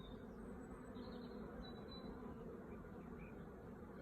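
Honey bees drone in a soft, steady buzz around a hive as they fly in and out, a faint continuous hum with no voices.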